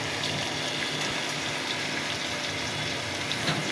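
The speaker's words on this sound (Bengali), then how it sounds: "এই মাছটা ভালো করে লবণ দিয়ে ধুয়ে নেবেন" Pangas fish being washed with salt under a steady, continuous gush of running water, close and fairly loud throughout.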